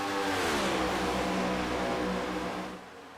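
Race cars in the iRacing sim pass on track at Chicagoland, a loud revving engine whine sweeping in pitch before fading near the end, with no talk.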